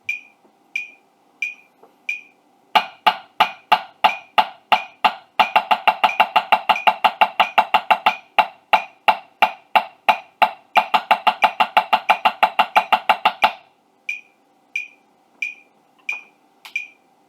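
Drum exercise with staggered sticking at 90 BPM, played as sharp, evenly spaced strokes that speed into dense rapid runs in the middle and thin back out to single hits at either end, close and loud.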